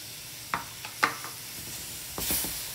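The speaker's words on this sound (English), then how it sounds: "Just stir it." A spoon stirs a few tablespoons of fresh milk into a semolina rava ladoo mixture over a soft steady hiss, with a handful of light scraping strokes close by and no talk.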